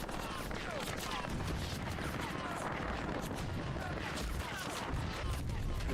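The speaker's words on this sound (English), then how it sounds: "Worthington taking some rounds from Mason as Randleman tries to get his shots into the window." Dense continuous gunfire from a Hell Let Loose match, with overlapping rifle and machine-gun bursts and distant booms forming a thick, sustained battlefield din.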